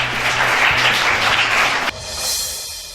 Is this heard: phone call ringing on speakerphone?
no